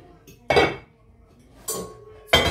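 Tea cups clinking in a home kitchen, three separate bright clattering bursts of crockery knocked together at close range, with quiet gaps between them.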